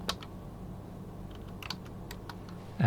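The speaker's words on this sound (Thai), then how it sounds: "พิมพ์เครื่องหมาย x นะฮะ" A few sparse clicks of keys on a computer keyboard while typing, quiet and near, followed by a louder bump at the end.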